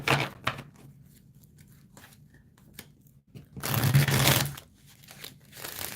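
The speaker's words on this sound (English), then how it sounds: "All right, last shuffle." Tarot cards are shuffled by hand in quiet bursts: soft rapid riffling and papery flicks, with one longer, louder shuffle near the end, no speech.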